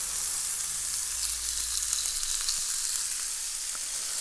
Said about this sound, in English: Lay the bacon in there,